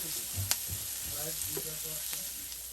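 Bottle gourd peel frying in a pan with coriander and cumin powder: a continuous close sizzle with repeated scraping and knocking of a stirring spoon, including one sharp tap.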